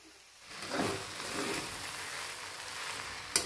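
Cooked rice and vegetables being stir-fried for Schezwan fried rice, a soft continuous sizzle with faint scraping that swells after the first half second, ending in a brief sharp clink.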